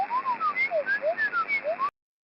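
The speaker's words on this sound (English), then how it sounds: "I'm assuming that's the data packet." A warbling shortwave radio data-packet signal, a rapid repeating chirpy whistle pulsing about ten times, then cutting off abruptly.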